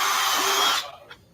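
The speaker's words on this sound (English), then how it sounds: "Drilling holes in the rockers." A power drill whines at high pitch while boring holes in the rocker panels of a 2024 Camaro, a short, steady burst that cuts off abruptly, followed by a faint tick.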